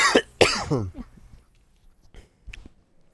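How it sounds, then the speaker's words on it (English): Two loud, close coughs burst out in quick succession, followed by a few faint soft knocks and rustles in a quiet room. "Didn't mean to cough in the microphone."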